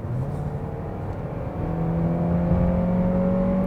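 A 2021 Kia Optima accelerating from inside the cabin, its engine drone climbing steadily before dropping and rising again as the transmission shifts quickly, over a constant road rumble.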